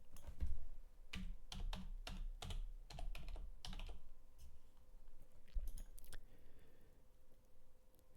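Keystrokes clatter on a computer keyboard in quick bursts of clicks, with a dense flurry early on and sparser taps later, close and fairly quiet with no one talking.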